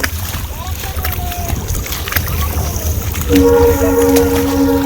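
A passing train's loud, sustained horn blares from about three seconds in over a rumbling, windy background, with a few fainter tones before it.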